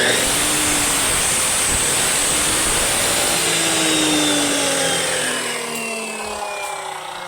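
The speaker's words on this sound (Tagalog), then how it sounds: "patutulusin po natin yan sa pamamagitan ng speed cutter" A speed cutter runs loud and continuous while cutting steel wire for a hook end, a dense whining grind that holds steady, then eases slightly toward the end.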